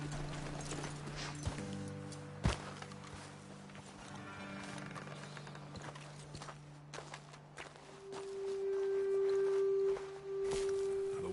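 Horses' hooves clip-clopping slowly on ground in Red Dead Redemption 2, faint irregular steps under a low ambient hum, with a brief sharp thud and a sustained tonal sound later.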